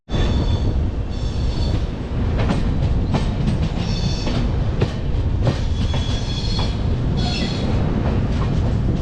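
A passenger train rolls on near Guntur, heard close from on board as a loud steady rumble with repeated clickety-clack wheel beats and brief metallic squeals.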